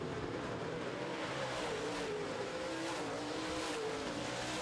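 Modified race cars roar around a racetrack during a heat race, a dense, continuous engine drone with shifting pitch as the pack passes, loud and steady with no voices.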